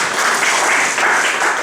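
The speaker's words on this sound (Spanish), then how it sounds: "Un aplauso" Short burst of audience applause for a volunteer at a live polygraph comedy show, dense steady clapping that fills the whole moment without a break.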